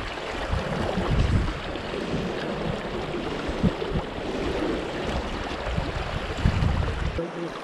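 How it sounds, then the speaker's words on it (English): Rough, fast water of the Madison River in Montana rushes and churns nearby, a dense low roar that swells and dips with some wind buffeting, without any talk. "we're dealing with kind of some rough water right now"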